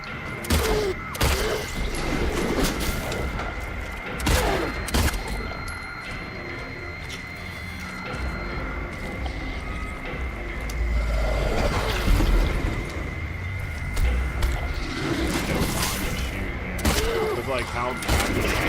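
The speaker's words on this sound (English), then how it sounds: "I'm just gonna stick to the pistol. I was supposed to shoot it in its face" Pistol shots ring out in the Silent Hill 2 video game, several sharp isolated cracks spaced irregularly over a rumbling background, with a person talking between them.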